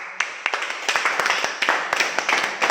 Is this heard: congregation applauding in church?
yes